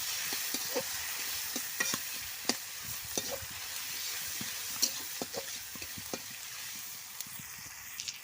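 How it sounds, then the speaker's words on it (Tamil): Onions and chopped tomatoes sautéing in a pan for a tamarind okra curry, a soft, steady sizzle with faint scattered pops and light stirring scrapes, fairly quiet throughout. "தக்காளி சேர்த்தாச்சு நல்லா வதக்கி விட்டுக்கலாம்"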